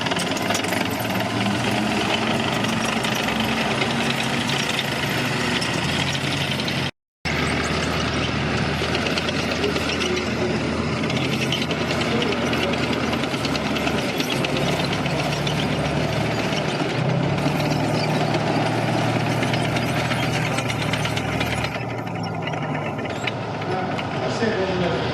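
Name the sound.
World War II tank engine idling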